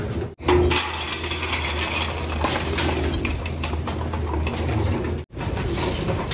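Pigeons in a loft aviary give steady cooing and low bird calls, close and continuous, over a constant background hum and rustle.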